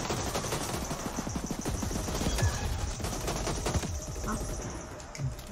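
A gun turret firing rapid bursts in the video game The Ascent, dense rattling shots in quick succession, fairly loud and sustained over game background sound.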